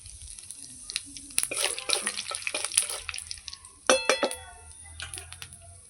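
A bay leaf and whole cumin go into hot oil in a wok, crackling and sizzling up close amid clinks of a metal utensil against the pan and a louder spitting burst partway through.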